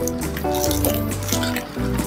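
Rain dripping and splashing during a motorbike trip, a wet, continuous patter of drips mixed with a steady droning hum, close and fairly loud.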